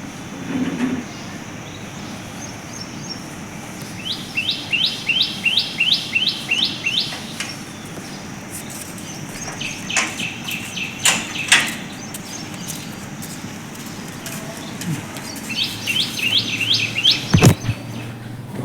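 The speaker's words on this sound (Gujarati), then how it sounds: "જો કોઈ પક્ષી આવ્યું છે માળો બનાવવા માટે." A bird building a nest gives quick runs of high chirps, with a few separate bursts spread across the clip. A light background hum runs throughout, along with a few sharp knocks, and no one speaks.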